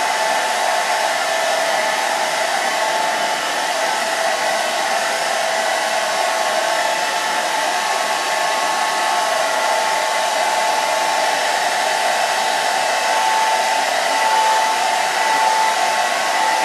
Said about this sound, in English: And I just take the blow dryer down as I comb it.